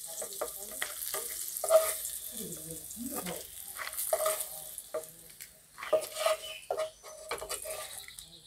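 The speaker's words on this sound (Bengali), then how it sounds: "এবার একইভাবে করলাগুলোকেও ভেজে তুলে নেব" Bitter gourd pieces frying in hot oil for a Bengali dud sukto, with a steady sizzle and occasional stirring scrapes, and faint bird-like chirps and a voice now and then in the background.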